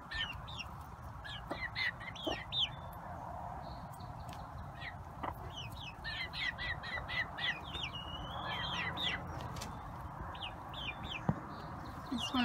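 Chickens and young chicks with neck markings chatter in a steady stream of clucks and high peeps, moderately faint and continuous, with no voices over them.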